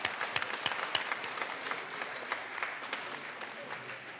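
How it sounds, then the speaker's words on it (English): Applause in the Colorado House chamber during a legislative session, a moderate, fairly distant spread of clapping with a few sharper claps near the start, thinning gradually over a few seconds. "A round of applause."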